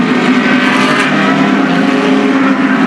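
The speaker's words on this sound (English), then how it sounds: "This is the first feature race of the day, and this is a parade lap." Vintage GT race cars such as Ferraris and Porsches roll through a parade lap at the Mid-Ohio Sports Car Course, with a steady, loud blend of engine drone and exhaust rumble that holds throughout and has no clear pass-by.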